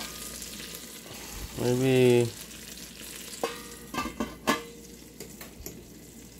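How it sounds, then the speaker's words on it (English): Crab frying in a pan, a soft steady sizzle throughout, with a louder burst of stirring or shaking near the start and a few clinks and knocks of pan and utensil afterward. "Nice and gold brown. Still cooking a little bit."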